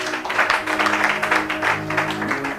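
Church congregation applauding, a dense steady patter of clapping that swells in waves over a held musical drone, moderately loud with no clear talk.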